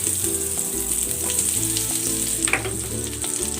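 Butter sizzling in a hot pan while pork is being cooked, a steady bright crackle with a few sharper pops, close and continuous with background music underneath.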